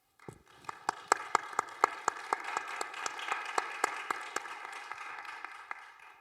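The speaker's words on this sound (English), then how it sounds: "So a round of applause, please, to our panelists" Small conference audience applauding the panelists at the close of a session, a few loud distinct claps standing out over a thinner spread of clapping that swells and then gradually fades.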